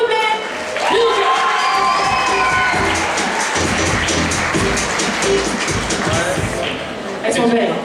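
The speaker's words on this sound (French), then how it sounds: "Applaudissez bien fort s'il vous plaît." A convention crowd cheers and claps loudly during a roleplay contest, with children shouting, and a voice talks over the noise at the start and end.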